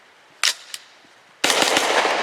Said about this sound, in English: This will be subsonic 150 grain. Oh, that's quiet.